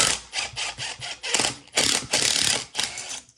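An 11 mm socket on a ratchet wrench loosens a WD-40-sprayed exhaust clamp nut on a 6.0 Powerstroke diesel, with rapid close clicking bursts in a stop-start rhythm of short and longer runs.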